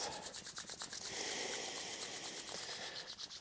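Palms rubbed briskly together to warm the hands, a close, dry swishing friction repeating in a quick back-and-forth rhythm, with no talk.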